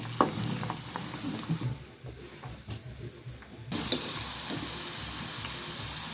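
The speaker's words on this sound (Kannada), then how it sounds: "ಇದನ್ನು ಹಾಕ್ಕೊಳ್ಳೋಣ ಎಣ್ಣೆಯಲ್ಲಿ. ಕಡಿಮೆ ಉರಿಯಲ್ಲೇ ಹುರ್ಕೋಬೇಕು." Garlic frying in oil over a low flame, a steady sizzle with light stirring, briefly dropping quieter in the middle before resuming at full level.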